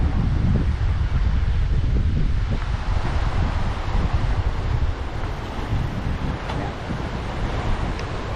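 Strong wind buffets the microphone at the top of a temple built entirely of teak, a continuous loud roar with low rumbling gusts and a surf-like wash throughout, with no voices.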